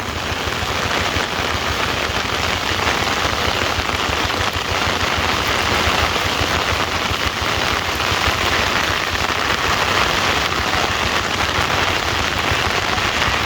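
Steady, heavy rain patters down on a surface, a dense continuous hiss of drops that never lets up, with no voices.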